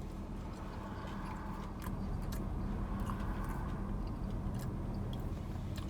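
Arby's crinkle fries are bitten and chewed close up, a soft run of crunchy, crackling bites and mastication over a quiet background, with no talk.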